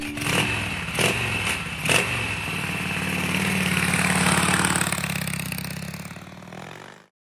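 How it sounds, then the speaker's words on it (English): A small Suzuki motorcycle engine running steadily with a mid-pitched hum and light clatter, a few sharp revving bursts early on, then an even drone that fades out and stops abruptly near the end. "We had a great little Suzuki motorcycle that we rode around home"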